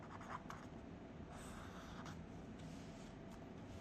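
Pen or marker writing an answer on paper or board during a maths lesson, a faint continuous scratchy stroke sound over low room noise, no speech.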